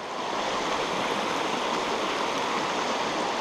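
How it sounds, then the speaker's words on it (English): A small mountain river flows through a quiet, remote highland spot, a steady, full rushing wash of water heard close and continuous, with no voices over it. "Little mountain river here."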